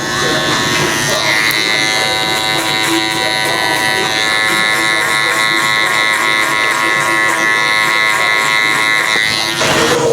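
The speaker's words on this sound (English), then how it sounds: "it could be easier to use a clipper over comb" Electric hair clippers cut a child's hair using the clipper-over-comb method, a loud, steady close-up buzz that runs without a break for the whole stretch and only dips slightly near the end.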